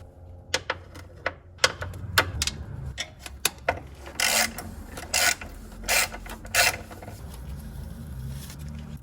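A socket ratchet works loose the coil pack screws on a Porsche Boxster Cayman 987 engine, quick clicking ratchet strokes followed by several louder rasping turns, close and alone.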